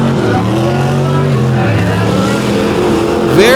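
A dirt track race truck engine at full throttle heading into a turn, a loud steady roar with harmonic bands shifting pitch, close and continuous, with a brief higher whine near the end.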